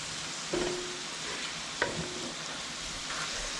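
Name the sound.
stirring grape jelly into barbecue sloppy joe mixture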